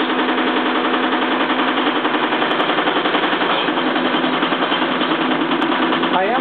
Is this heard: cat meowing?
no